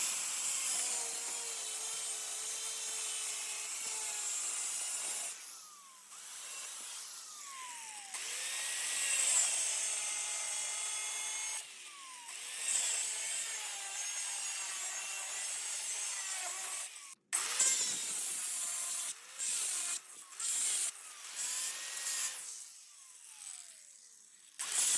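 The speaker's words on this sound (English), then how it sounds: "We have had a lot of fun cutting big chunks out of the blades." DeWalt power tool grinding chunks out of steel lawn mower blades, a loud, steady, high-pitched cutting whine that breaks off briefly and restarts several times.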